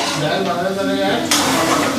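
Green chilies fry in a pan in a home kitchen, a steady sizzle with a sudden louder hiss partway through, while someone talks over the cooking.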